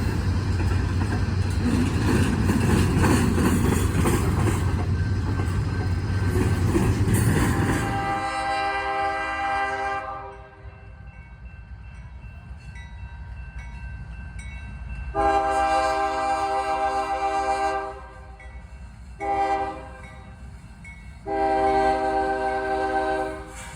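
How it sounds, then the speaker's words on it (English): A CSX I-151 freight train led by a BNSF Heritage 2 locomotive turns the wye at Fostoria, Ohio. A loud rumble passes first, then long, blaring horn blasts sound in several separate bursts, with no talk. "It turns out it was a late CSX I-151, turning the Y under the CSX Willard sub, en route to its destination of North Baltimore, Ohio."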